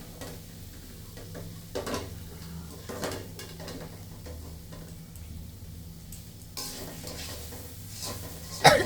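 Snake gourd frying with small mola fish in a pan, a steady soft sizzle under repeated scraping stir strokes of a utensil against the pan, with occasional louder clinks, no talking.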